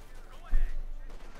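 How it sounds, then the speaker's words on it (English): Artillery fire from a Company of Heroes 2 battle lands as a single deep, heavy boom with a rumbling tail, partly under a commentator's voice. "Artillery fire all going off here"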